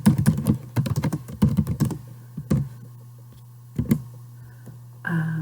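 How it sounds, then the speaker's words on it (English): Quick bursts of typing on a computer keyboard, rapid clustered key clicks with pauses between them, close and clear. "So type in the new section head."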